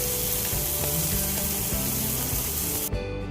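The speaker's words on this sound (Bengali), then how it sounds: "একটু নাড়াচাড়া করার পর আমি একটু কড়া করে মাছগুলো ভেজেছি" Small chuno fish fry in hot oil in a kadai, giving a dense, continuous close sizzle that stays loud throughout, with a brief clink of a utensil near the end.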